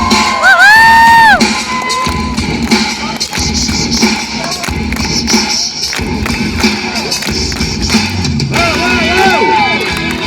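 A large audience shouts and boos loudly in a noisy, crowded hall, with overlapping voices, whoops and occasional thumps forming a continuous dense roar.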